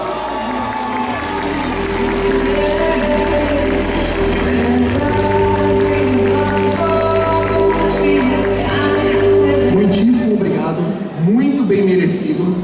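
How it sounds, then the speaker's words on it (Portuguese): An audience at an award ceremony for the Super XP 2022 event in Brazil applauds and cheers, a dense, loud clatter of clapping that runs throughout while a voice speaks over it. "Aplausos!"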